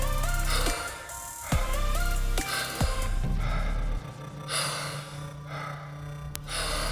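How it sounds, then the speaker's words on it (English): Forceful Wim Hof style breathwork inhales during a psychedelic breathing session, a few deep gasping breaths drawn in repeatedly, close and loud over a sustained low musical drone. "Keep those big, powerful inhales up."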